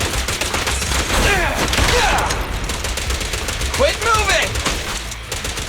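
Bursts of gunfire from the video game Zenless Zone Zero, with rapid shots and a fusillade of repeated cracks over game effects, while a voice calls out during the action.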